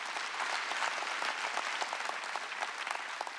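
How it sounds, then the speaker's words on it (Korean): A church congregation at a Korean Sunday worship service breaks into steady, sustained applause, many hands clapping evenly throughout, filling the hall with no voices over it. "박수 치라고."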